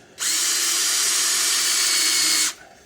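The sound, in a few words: power drill drilling a primary hole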